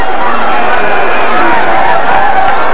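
A sellout crowd at a 1994 high school basketball game in a gym, its broad roar of cheering and shouting filling the room steadily and loudly throughout.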